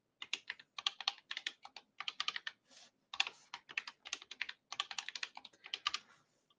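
Someone types a password on a computer keyboard in close, crisp bursts of rapid keystrokes with short pauses between runs.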